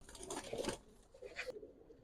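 Lal Patti pigeons give a soft, brief coo, faint and close in a quiet space, lasting only a couple of seconds.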